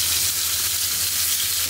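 Bitter gourd fries in a little oil in a pan, giving a steady, close, dense sizzle that holds unbroken throughout with no voices.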